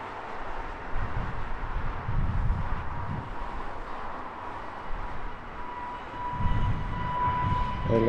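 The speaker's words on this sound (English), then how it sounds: "Aer Lingus A320 Neo, roll in for Dublin" An Aer Lingus A320neo jet rolls along at Heathrow Airport, a steady, moderately distant engine roar with low rumbling swells and a faint whine rising toward the end.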